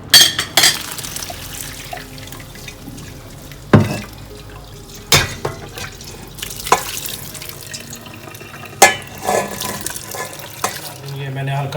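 Partly cooked rice for Arabic chicken mandi is drained through a strainer in a kitchen, with water pouring and splashing in uneven bursts and sharp clatters, some fairly loud, over a steady background trickle.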